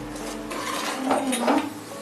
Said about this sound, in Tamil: சுண்டைக்காய் கொட்டிடுறேன்